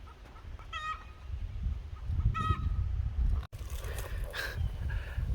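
Chickens cluck and squawk a few times outdoors while being chased, over a steady low rumble of wind or background noise, moderately distant.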